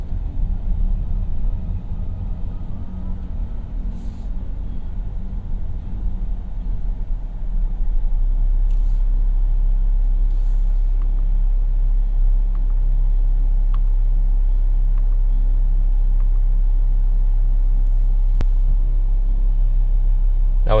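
Cabin of a 2018 Volvo XC90 T6 AWD Inscription on the road, a steady low engine and tire rumble under a constant hum with faint occasional clicks, continuous and even with no talking.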